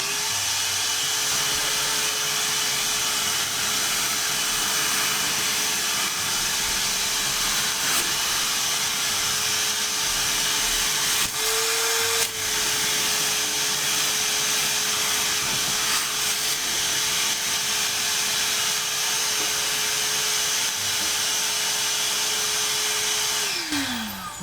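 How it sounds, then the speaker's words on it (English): A vacuum cleaner sucks up dead fruit flies from a Vermibag Max worm bin and off a tarp beside it, a loud steady whine with breathy hiss that runs unbroken for the whole stretch and winds down at the end. "Let's just vacuum these up a little bit."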